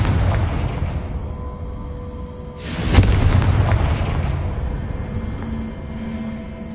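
A Confringo spell bursts in Hogwarts Legacy, a single sharp, loud blast that fades into a rumbling tail over steady background ambience.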